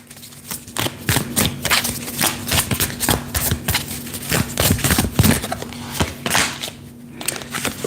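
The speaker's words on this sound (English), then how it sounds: "Give me a quick shuffle for Aquarius." Tarot cards being shuffled close up, a steady run of crisp riffling and slapping bursts lasting several seconds with brief pauses, no voices over them.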